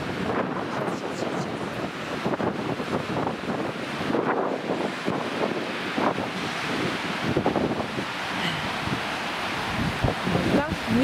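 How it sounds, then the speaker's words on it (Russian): Strong wind buffets the microphone on a sunny sea beach, a steady roaring gust with surf washing beneath it, loud and continuous throughout with brief rustling. "Ну, ветрено, очень ветрено."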